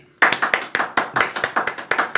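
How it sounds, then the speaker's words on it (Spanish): Rhythmic clapping begins abruptly on a podcast, a quick run of sharp hand claps from what sounds like one or two people nearby, with no talking. "demos un fuerte aplauso a Alan Morán."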